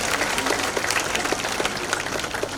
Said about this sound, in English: Audience, please join me in giving our sponsors a very well-deserved round of applause.